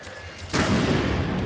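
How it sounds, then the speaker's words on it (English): A flashbang grenade goes off in Counter-Strike Online, a sudden loud bang half a second in followed by a sustained ringing, roaring burst that fills the rest of the moment. "Flashbang going down."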